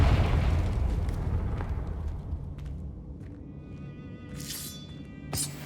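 A blasting spell detonates in Hogwarts Legacy, a deep rumbling boom that decays over a few seconds, followed by crackling debris and a couple of sharp bright bursts near the end.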